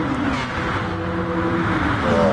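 A race car in a PS4 racing video game accelerates hard through the gears, a steady, loud engine drone with rising tones.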